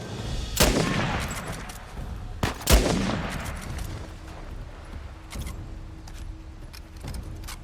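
Gunfire in the video game Uncharted: The Lost Legacy, a dense burst of sharp shots with two loud, close reports standing out, then scattered lighter pops under a steady low rumble.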